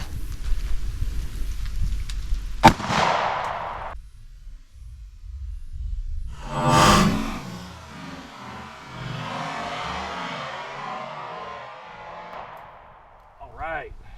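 A 9mm pistol fired while testing protection rounds, with a sharp close gunshot near the start and another loud shot a few seconds later, followed by a fading echo tail.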